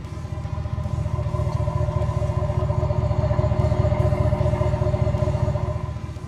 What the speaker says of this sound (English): It's a very throaty exhaust, and it's not overly loud.